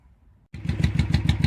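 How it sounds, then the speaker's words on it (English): A 2003 Honda Shadow Spirit 1100 motorcycle with its exhaust just refitted fires up after a brief quiet moment and settles into a steady, lumpy idle of close, rhythmic exhaust pulses. "I got it running, got the exhaust on. Sounds pretty good, no exhaust leaks."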